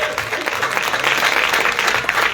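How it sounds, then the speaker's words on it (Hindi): A church congregation at a Christmas celebration claps together, a steady, dense burst of applause with no pauses. "ताली बजाएंगे आज के कलाम के लिए जोश के साथ सब कलीसिया।"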